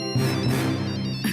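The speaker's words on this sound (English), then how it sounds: "Draken remembers he has a cell phone and tries to call Shigo" A cartoon cell phone rings in a short, steady electronic tone that holds for just over a second and stands alone without speech, followed by a brief second burst at the end.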